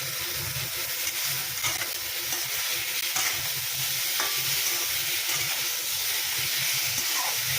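Spices for magur fish curry sizzle and fry in a pan, a steady bright hiss broken by occasional stirring scrapes, close and continuous with no talk.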